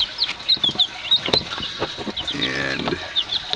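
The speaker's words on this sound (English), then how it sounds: "here we got all 10, our new baby chicks. They are Rhode Island Reds." Week-old Rhode Island Red baby chicks give repeated high, thin chirps and peeps close by, irregular and overlapping, with some soft clucking and rustling.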